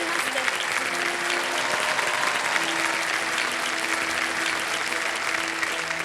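A studio audience on the KBC game show claps steadily and warmly in dense, sustained applause that holds at an even level from start to finish.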